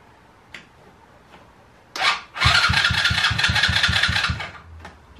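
A quad bike's engine cranked and started after first refusing to fire: a few faint clicks, a short whir, then a loud, close mechanical clatter with rapid regular pulses for about two seconds before it dies away, no talking.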